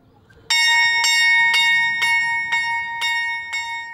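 Bell at a convent of Poor Clare nuns calling the sisters to prayer, a loud, clear ring struck steadily about twice per second, each stroke overlapping the ringing tail of the last.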